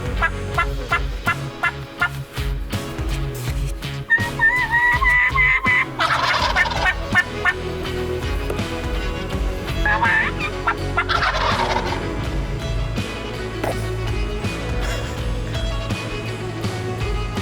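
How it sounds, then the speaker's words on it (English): Wild turkeys gobbling outdoors during a hunt, several loud rattling gobbles overlapping and repeating across the stretch, near and vigorous, with rustling and other bird calls between them. "They continue to gobble and hang around"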